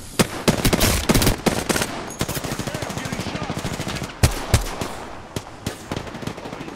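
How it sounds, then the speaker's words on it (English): Rapid automatic gunfire and sharp single shots crackle through an Apex Legends firefight, loud and close, with bursts stacking over one another and brief gaps between volleys. "I was so confused where I was getting shot at."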